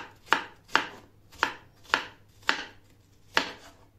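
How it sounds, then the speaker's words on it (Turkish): Onions being chopped with a knife on a cutting board, six sharp crisp chops at an unhurried, slightly uneven pace, close and clear with no talking. "Soğanlarımızı normal bir şekilde doğrayalım."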